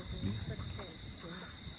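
Frogs call through the night on a walk near Brighton beach, a steady, unbroken high-pitched chorus droning throughout, with low muffled talk and footsteps underneath.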